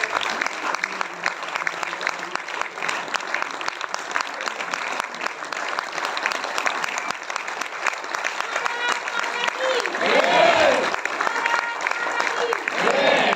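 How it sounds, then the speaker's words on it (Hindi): Sustained audience applause welcoming a performer playing Bapu (Mahatma Gandhi) onto a stage, dense steady clapping from a large crowd that swells near the end, with a voice briefly heard over it. "तालियां रुकनी नहीं चाहिए भाई"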